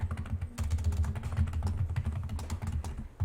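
Rapid computer keyboard typing, a steady stream of quick clicks over a low background hum, close and continuous without speech.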